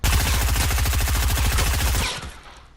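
Blue SMG in Fortnite firing a fast, loud, evenly spaced burst of about two seconds, then cutting off into a short fading tail.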